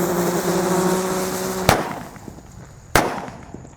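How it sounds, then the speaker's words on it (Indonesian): Red lotus firecracker crackling and fizzing with a buzzing whine, then two sharp loud bangs about a second apart, fairly close, with no talk. "kita nyalakan mercon teratai yang warna merah"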